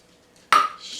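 Two cups of corn tip into a pot of chili with a single sudden rattling pour, loud and close, that eases into a softer scattering hiss after an otherwise quiet start.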